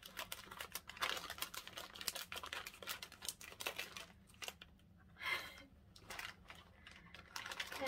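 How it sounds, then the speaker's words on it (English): Scissors snip through a Japanese jelly fish ring candy in a rapid run of close, crisp clicks and cuts, then a sparser, quieter stretch of irregular snips. "So we start scissor cutting."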